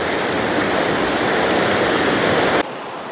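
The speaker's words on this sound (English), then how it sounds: "The river got increasingly narrow and fast." A fast-flowing river rushes loudly and steadily, a dense roar of water that suddenly drops to a quieter hiss near the end.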